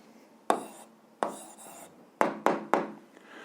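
Pen or pencil strokes on paper as a maths answer is written out by hand, five sharp scratchy bursts in an irregular rhythm, close and fairly quiet, with no talking.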